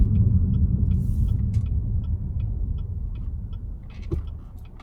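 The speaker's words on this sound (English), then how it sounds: "showing some driving footage of me getting up to speed in the car" A manual transmission car accelerates up to speed from a standstill while merging, with a steady low engine and road rumble that eases slightly, plus faint ticking from inside the cabin.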